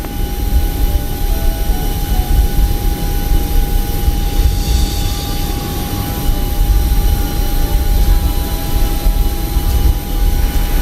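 Simulated airliner engine in Microsoft Flight Simulator, a steady loud jet drone with a constant hum and no speech, droning on without change.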